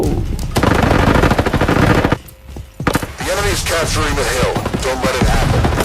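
Rapid automatic gunfire in the Roblox game Frontlines, loud bursts of shots that drop out briefly and resume, with a player talking over the shooting.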